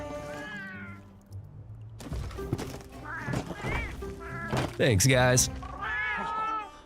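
Several cats meow with rising harmonic calls among lively talk, the meows fairly close and repeated across the stretch.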